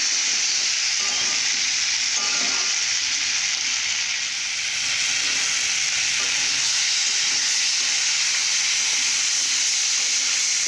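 Spices frying in a pan for a bitter gourd curry, giving a continuous loud hiss and sizzle with occasional soft stirring knocks throughout, alone without talk.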